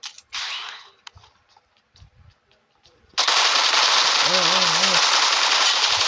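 Loud sustained automatic gunfire from the PUBG Mobile video game bursts in after a few sparse scattered shots and clicks, continuing as a dense unbroken rattle.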